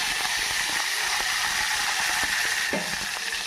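Curry leaves dropped into hot oil already holding seeds, dal, mustard and cumin for an egg pulusu tempering, giving a steady loud hissing sizzle with small crackles and pops throughout.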